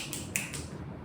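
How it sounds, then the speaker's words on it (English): A few dry finger snaps ring out in a quiet indoor room, three quick sharp clicks with one standing out louder in the middle, close and alone with no talking. "you have zero skill of like snapping your fingers"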